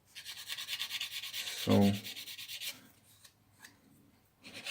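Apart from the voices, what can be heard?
sanding a model airplane part with a sanding stick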